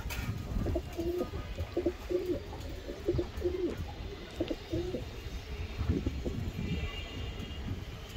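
A pair of racing high-flyer pigeons cooing in a loft, soft throaty coos repeating in a steady rhythm over faint background noise, fairly close but quiet.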